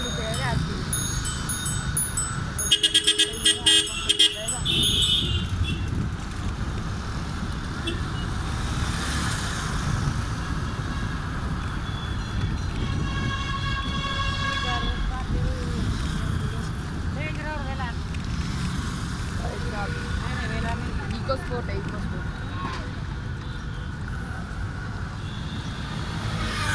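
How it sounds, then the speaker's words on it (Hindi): Heavy road traffic with cars, trucks and motorbikes rumbles steadily nearby, with sharp horn honks bursting in near the start and again midway, while someone talks over the din. "सामने देख रहे हो काफ़ी ज़्यादा ट्रैफिक है"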